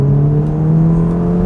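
A 2021 Ferrari Portofino M engine hums steadily at a sustained pitch, loud and close, with no voices over it.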